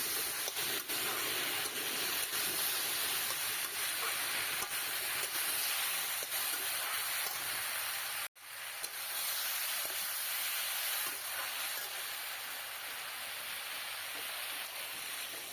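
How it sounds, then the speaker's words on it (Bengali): Prawns and bottle gourd sauté in a hot pan with a continuous loud hiss and sizzle, broken once by a sharp momentary click, close by and with no talking. "এবার চিংড়িগুলো দিয়ে দিলাম এখানে দিয়ে আরেকটু কষিয়ে নেবো"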